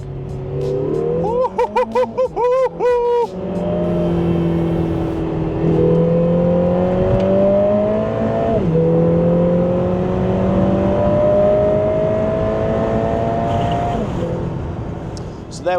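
A Lotus Emira sports car with a Cobra Sport GPF-back performance exhaust revs sharply a few times, then pulls away, its exhaust droning and rising through the gears, with a brief upshift dip between pulls.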